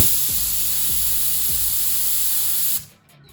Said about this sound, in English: This thing has been spraying real nice at 20 PSI